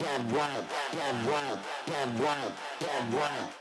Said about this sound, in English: So you hear that metallic sound.